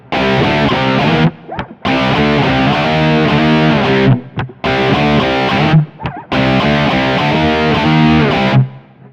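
Distorted electric guitar riff built on inverted power chords, loud and heavy, played in three sustained chugging bursts separated by brief stops, with no talking.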